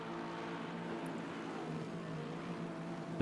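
A Porsche race car's engine drones at Brands Hatch with a steady, continuous engine tone throughout, loud and close, with no talking.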